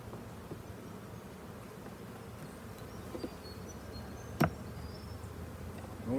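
Bees hum softly and continuously inside an opened beehive during an early spring inspection, a low steady drone with a few faint clicks and a brief knock near the end.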